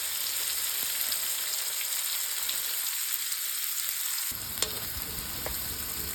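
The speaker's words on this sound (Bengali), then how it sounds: "যে পেঁয়াজটা ভাজা হচ্ছে, আরও একটু কিছুটা সময় ভাজবো" Chopped onions sizzle in hot oil for a hilsa do-peyaza, a steady close crackling hiss throughout with a brief clink of a utensil near the end and no talking.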